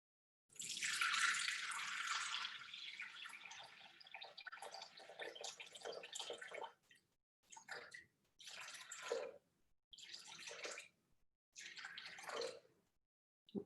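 Running water poured out for gluten-free baking, about 400 grams measured in: a strong steady stream at first, then several shorter splashing bursts broken by brief pauses, close and clear, with no talking.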